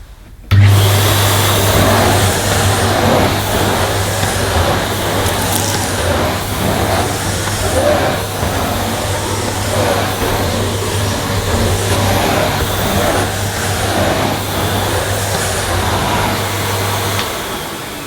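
Henry XL Plus vacuum cleaner running at maximum power on a short pile hallway carpet, a loud steady motor drone that starts abruptly and holds for most of the clip, with the nozzle brushing back and forth beneath it.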